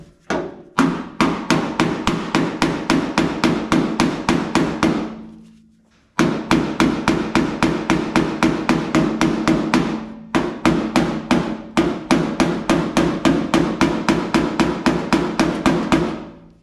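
A 1964 Impala fender is reshaped with a rounded-head hammer on an inside curve: close, loud metallic strikes in quick, steady bursts, broken by two short pauses.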